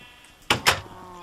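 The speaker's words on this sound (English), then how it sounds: "sheep labeled Jeb will cycle through all 16 colors" Minecraft sheep let out two quick bleats in close succession, loud and near, with no other sound around them.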